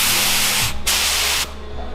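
Water sprays from nozzles set at 40 psi, a loud, close broadband hiss that breaks off briefly and resumes, then drops away near the end.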